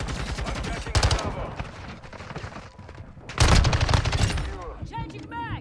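Rapid bursts of MX9 submachine gun fire in the video game Modern Warfare 2, loud and close, with a heavier burst midway, set among game effects and speech-like sounds.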